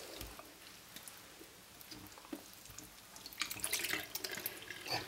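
Tap water runs into a sink while lamb intestines are rinsed for kokoretsi, a close steady splashing stream that grows louder and more spattering toward the end.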